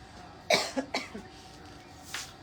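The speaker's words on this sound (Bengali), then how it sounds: "মাথা ঠান্ডা লাগতেছে তো কাশি আসতেছে" A person with a cold coughs a few times in quick succession, short sharp bursts followed by a smaller cough and a throat clear, fairly close in a quiet indoor room.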